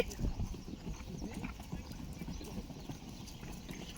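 Horse trotting during a riding lesson, its hooves beating a fairly quick, even clip-clop rhythm that stays faint and distant throughout, with a brief louder thud near the start.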